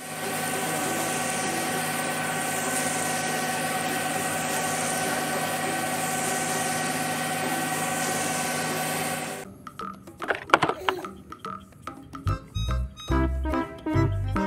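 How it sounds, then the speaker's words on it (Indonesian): Concrete mixer truck engine idling with a steady, moderately loud hum and vibration for about nine seconds, followed by someone speaking. "Widih, ada mobil truk molen."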